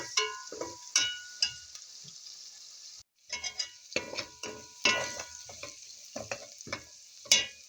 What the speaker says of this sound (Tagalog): just 2 to 3 minutes we have to saute this garlic and onions